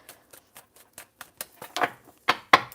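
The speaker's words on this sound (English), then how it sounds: "I'm going to shuffle one more time, Spirit." Two decks of cards are being shuffled, heard as a run of crisp close riffles and snaps that grow denser and louder toward the end, with no voices.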